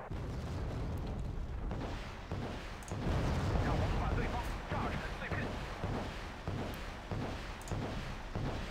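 Rocket artillery salvos in the video game Wargame: Red Dragon, a steady rumbling roar of launches and explosions with sharp bursts throughout, loud and continuous, heard alone without talk.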